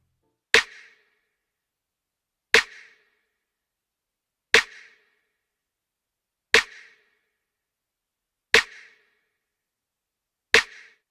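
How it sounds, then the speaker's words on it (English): Layered electronic snare drum sample, a tight snare stacked with a click or clap, struck alone six times at an even two-second spacing, each hit crisp and short with a quick decay. "This is how the snare sounds on its own."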